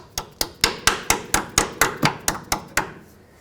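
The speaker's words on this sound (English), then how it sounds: "put your clip in and tap it into place, seat it all the way" A brake hose retaining clip is tapped into place on a 2001–07 Toyota Sequoia, giving about eleven sharp, evenly spaced metallic hammer taps, close and loud, each ringing briefly before the next.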